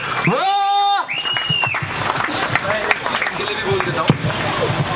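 Audience clapping and crowd murmur at a mehndi and sangeet ceremony, a dense, continuous patter of applause that carries on after a sustained tonal sound fades, with a few sharper claps standing out near the end.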